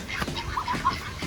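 Soft clucking from several backyard chickens close by, short irregular calls over a low rustling background.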